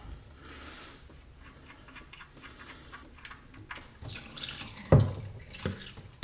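Engine oil drains from the oil pan of a 2010 Kia Rio or a 2013 Volkswagen CC 3.6 4Motion into a drain pan below. The liquid pours in a soft, steady trickle that grows louder and more splashy toward the end.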